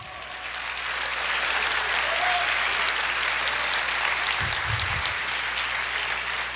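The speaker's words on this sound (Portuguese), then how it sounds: "Glória a Deus, aplauda o Senhor." Worshippers in a church service applaud in praise, building quickly into a continuous, even wash of clapping that holds steadily throughout, with a faint low hum beneath.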